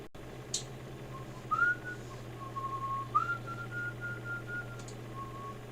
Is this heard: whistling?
yes